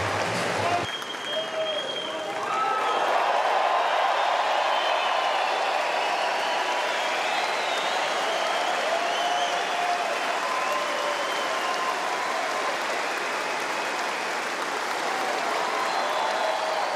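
A large tennis crowd claps and cheers in a sustained, dense roar of applause after Federer wins at Wimbledon, steady and loud throughout.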